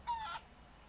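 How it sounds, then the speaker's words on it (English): A single short chicken cluck from the video game Barn Finders, brief and fairly quiet, followed by faint background hush. "There's chickens everywhere."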